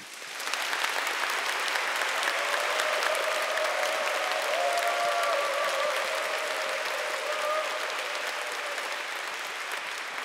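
A lecture audience breaks into sustained applause that swells quickly and holds steady for about ten seconds before easing slightly, a dense wash of many hands clapping with a faint sustained tone beneath.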